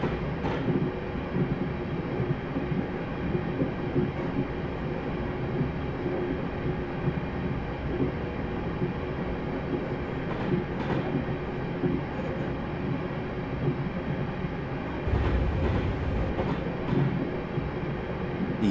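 A passenger train in Train Simulator 2018 runs at steady speed between idle and notch 1 on the line from Rugby to Stafford, with a continuous low rumble and faint clicks of the rails throughout.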